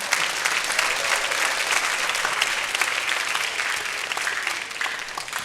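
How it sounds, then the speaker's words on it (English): An audience applauds a conductor at a grade-school band concert, with steady, dense clapping from a crowd that holds throughout at an even level and tapers slightly at the end. "Can we give him another round of applause?"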